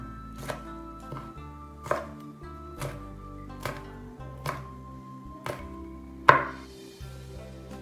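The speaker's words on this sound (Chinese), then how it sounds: "切2个小米椒" Knife chopping small chili peppers on a cutting board: about seven distinct, evenly spaced sharp chops, close and crisp, with a faint background hum and no speech.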